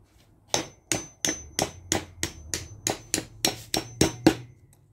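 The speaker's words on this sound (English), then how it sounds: "Hammer it in like so." A hammer taps bamboo tubes into a bee hotel, about a dozen sharp, close knocks in an even rhythm, with no talking.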